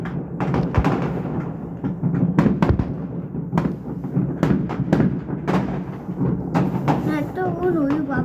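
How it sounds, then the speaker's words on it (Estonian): New Year fireworks rockets bursting over a crowded town, a string of loud, sharp booms and cracks at irregular intervals, some close and some distant, with people talking in the background. "Näed, too onu juba paneb rakette."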